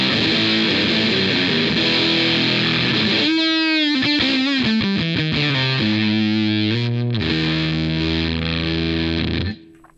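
Electric guitar driven through a gain pedal into a Vox AC30 amp with the mids cut, playing loud distorted sustained chords and a run of choppy picked notes, then ringing out before cutting off near the end; no talking.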